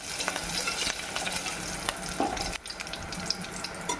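Mustard seeds, dry red chillies and curry leaves crackle in hot oil with a dense, close sizzle, punctuated by scattered pops and a few stirring scrapes, no speech.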